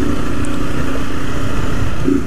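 A black Honda Fan 160 motorcycle with no air filter runs its engine in a loud, steady, raspy drone, close up without a break.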